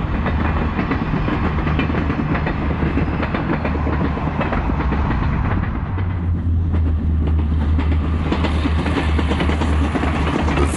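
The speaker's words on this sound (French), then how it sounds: "Voie unique, traction diesel." A diesel railcar on a single-track Alpine line between Marseille and Grenoble rumbles steadily along the track with a constant engine drone and rhythmic wheel clatter, loud and close throughout.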